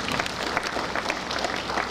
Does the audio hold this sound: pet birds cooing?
no